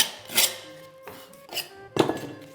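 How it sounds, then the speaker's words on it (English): A tool scraping old filler out of a settlement crack in the plaster wall of a new-build room: four short, separate scraping strokes with brief pauses between them, fairly close. "So I'm just scraping out the old filler,"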